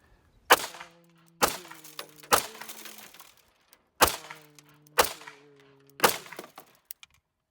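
Six sharp, loud pistol shots from a Wilson Combat fired into a car door, each a close percussive crack with a brief ringing tail, spaced about a second apart with a short pause after the third.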